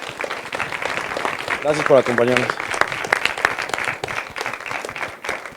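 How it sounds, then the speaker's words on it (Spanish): A university audience applauds the directors at a short-film competition Q&A, with steady dense clapping throughout and a voice speaking briefly over it. "Quisiera darle un aplauso a los directores."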